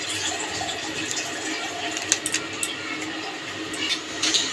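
Water is poured over ground coriander, turmeric and Kashmiri chili powder to soak the spices, making a soft continuous splashing trickle with a few small clinks and drips near the end.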